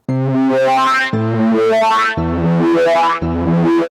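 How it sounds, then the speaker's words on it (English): Four sustained Serum synth chords, each held about a second, with a rich, slightly distorted tone and a spacious hall reverb wash filling the gaps between them. "And then just some hall reverb."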